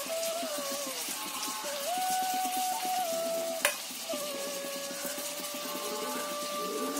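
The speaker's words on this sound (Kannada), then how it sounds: "ಈರುಳ್ಳಿನ ಆಯಿಲ್ ಅಲ್ಲಿ ಫ್ರೈ ಮಾಡಿ" Chopped onions fry in oil with a loud, continuous sizzle and crackle. Stirring scrapes sound throughout, and a sharp clink lands near the middle.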